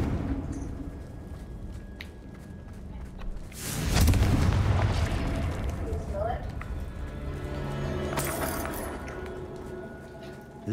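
The Confringo explosive spell in the video game Hogwarts Legacy lands as a deep booming blast partway through, followed by a rumbling tail and a second, lighter burst, with voices talking around it.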